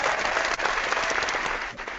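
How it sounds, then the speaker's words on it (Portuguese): Steady applause from an audience at a Brazilian talk-show event, dense sustained clapping from many hands throughout the short stretch, with no voices over it. "Adoro essas palmas."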